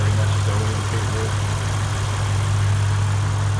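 A 2015 Lexus RC F with an aftermarket intake and exhaust idles close by, producing a steady, loud, low rumble that holds evenly throughout.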